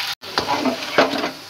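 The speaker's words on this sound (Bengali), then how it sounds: "ডাটাগুলো ভাজা হতে থাক।" Vegetable stalks sizzle steadily in a frying pan, with brief scraping stirs over the hiss, close and moderately loud.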